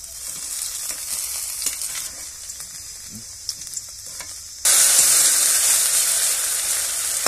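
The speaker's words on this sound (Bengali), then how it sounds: "দেখো দু সাইড লাল করে ভেজে নিয়েছি" A potato snack frying in oil: a continuous close sizzle with faint scrapes, which jumps to a louder, brighter hiss partway through and stays there.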